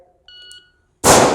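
A shooting timer gives a single short electronic start beep at the 10-meter line, followed moments later by a sharp, loud gunshot close by.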